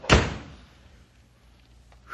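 A door slams shut in an old radio drama, one sharp loud thud at the start that fades into quiet room tone.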